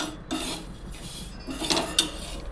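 Sesame seeds roast and get stirred in a pan for a chutney, a soft scraping and rasping with light rustles and the occasional clink, close and fairly quiet.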